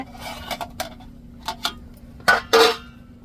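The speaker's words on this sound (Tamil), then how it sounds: "இப்போ திறந்து பார்ப்போம் நம்ம அடுப்பில் கிழங்கு அவிய போட்டுட்டு தான்" A cooking pot of boiled cassava on a stove is opened, giving a few faint metallic taps and clinks and then two louder scraping clanks of the lid near the end, over a steady low hum.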